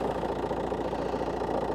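A Volkswagen Passat's two-litre engine idles with a steady, even low rumble and faint rhythmic pulsing, heard close and alone without talk.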